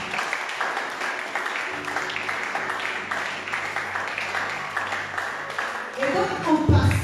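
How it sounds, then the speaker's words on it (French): A church congregation applauding during a French-language sermon, a sustained wash of clapping under a preacher's speaking voice, swelling louder toward the end. "J'aimerais que tu acclames pour ça."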